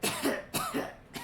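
A human voice imitates a disease goddess with three harsh, raspy coughs in quick succession, close and loud.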